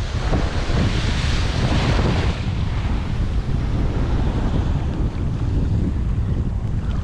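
Strong sea wind roars continuously into the microphone while people fish from a boat, with waves and surf washing underneath; loud, steady and unbroken, with no talk.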